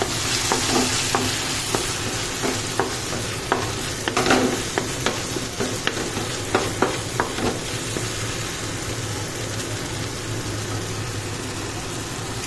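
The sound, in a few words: stirring tomato and pea pickle after adding coriander and chili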